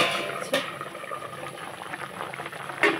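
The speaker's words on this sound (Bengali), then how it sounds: "ঝোলটা ফুটছে" Fish curry gravy with potato and eggplant bubbles in a pot, a soft continuous simmering hiss with faint pops and a couple of brief clinks, close and quiet, with no talk.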